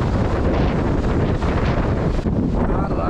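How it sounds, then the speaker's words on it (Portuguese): Heavy, rough sea pounds a rocky beach as strong wind buffets the microphone, a dense continuous roar with no pause, loud and close throughout. "Cara, que mar pesado, velho."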